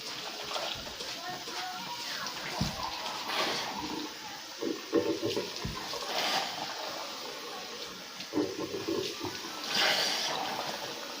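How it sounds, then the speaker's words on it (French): Hot tap water running steadily while hands are rinsed under it, with splashes and sloshing and people talking intermittently. "il faudrait que je rince à l'eau chaude"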